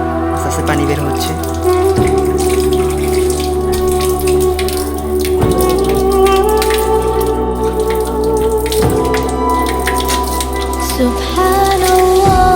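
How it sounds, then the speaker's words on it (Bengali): Tap water runs in a steady, continuous rush into a basin before ablutions at a village home, close and fairly loud throughout with a few slight shifts in flow. "আস্তে আস্তে পানি বের হচ্ছে।"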